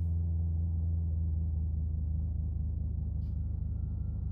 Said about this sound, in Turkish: Abi motor sesini duymak için 6000 devirlere gelmek gerekiyormuş.